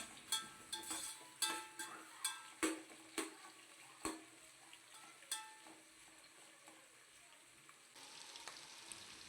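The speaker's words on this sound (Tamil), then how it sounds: "மிதமான ஹீட்டில் வச்சு வெங்காயத்தை வதக்கணும்" Onions sautéing in oil over medium heat for jackfruit biryani, a soft continuous sizzle broken by repeated clinks and scrapes of a spoon stirring the pan, close but quiet, with no talking.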